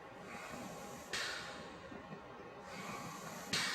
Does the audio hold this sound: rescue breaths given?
yes